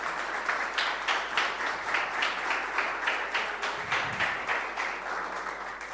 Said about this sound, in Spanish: Un fuerte aplauso para Jorge